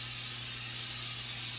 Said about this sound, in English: I'm going to spray this really good.